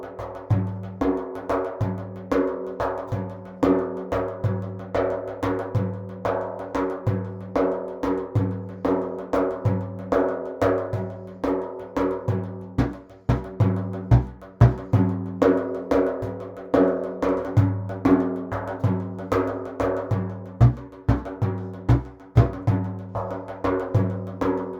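A hand drum plays a repeating 3-3-2 rhythm at full speed, with crisp, evenly spaced strokes and accented groupings, played alone and up close.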